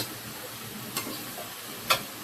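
A vegetable bhaji frying in a pan gives off a faint, steady sizzling hiss, broken by two sharp little clicks about a second apart.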